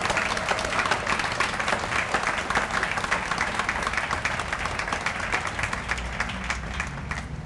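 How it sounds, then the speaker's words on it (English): A large crowd gives sustained, dense applause for a maintenance department at a community transit launch event, loud and steady for the whole stretch. "So please give those folks in our maintenance department one more round of applause."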